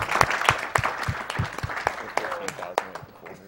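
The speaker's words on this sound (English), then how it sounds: "Let's clap for the synchronized death." Audience applause and cheering at a Mirror's Edge PC race at a live speedrun marathon, a crowd clapping steadily with scattered shouts, heard close and mixed with commentator talk.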